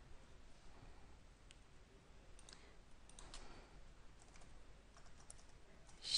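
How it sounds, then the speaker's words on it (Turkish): Quiet, fairly distant keystrokes on a computer keyboard as a password is entered, a scattered series of soft clicks over low background hiss, ending with a slightly louder bump. "Şifreyi de yazıyorum."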